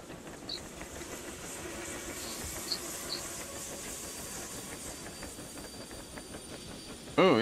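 Train braking in the railway simulator game Derail Valley: a steady rumbling, hissing rail noise runs throughout with faint squeal tones and a couple of soft knocks, ending in a sudden louder burst near the close.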